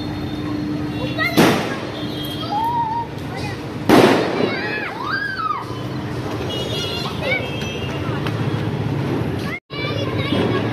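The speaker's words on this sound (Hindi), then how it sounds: "देख रहा है कि कहाँ कहाँ पटाखे जल रहे हैं" Diwali firecrackers bursting around a home during the festival night: two sharp loud bangs followed by whistling rockets and crackles, with distant pops, children's voices and chatter throughout.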